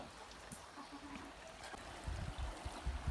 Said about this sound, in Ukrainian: потічок у нас піднявся, став такий повновадний, навіть гусей вже починає зносити